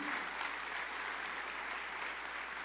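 Audience clapping at a Christian worship gathering, a steady, dense wash of applause sustained evenly throughout with no pauses.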